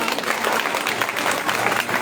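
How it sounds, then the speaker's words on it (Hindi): An audience at a spiritual discourse claps in dense, sustained applause, close and loud throughout. "3 शेरों को बजाइए ताली।"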